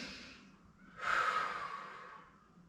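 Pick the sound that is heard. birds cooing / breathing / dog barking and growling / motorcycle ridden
breathing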